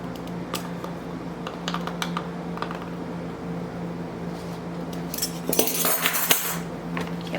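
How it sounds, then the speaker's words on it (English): Cashews and cinnamon sugar stirred in a bowl, a steady run of light scraping and clicking with a few louder clinks and clatters near the end, close up with no talking. "Give that a stir."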